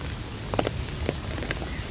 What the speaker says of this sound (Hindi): ये वहाँ पे बारिश हो रही है